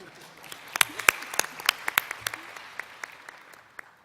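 Sparse audience clapping for speaker Hannah Zimmerman at a public health talk, scattered individual claps peaking in the middle and then thinning out, moderately close in a quiet room.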